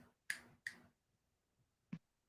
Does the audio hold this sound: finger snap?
yes